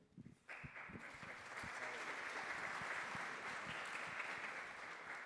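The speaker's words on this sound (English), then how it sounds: "Round of applause for him, please." Audience applause at a workshop talk swells quickly and holds steady as a dense, continuous clapping from a crowd, filling the clip.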